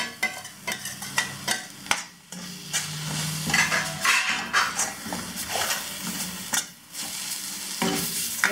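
Ginger garlic paste with turmeric, garam masala, cumin and coriander powders and salt being stirred and sautéed for an egg curry, close scraping of a spoon against the pan over a sizzle, in irregular strokes.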